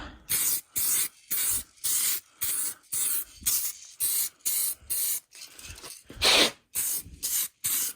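Aerosol can of flat clear coat sprayed over stereo decals on a Pioneer Miata stereo faceplate: about a dozen short hissing bursts in a steady rhythm, close and loud, with no talking.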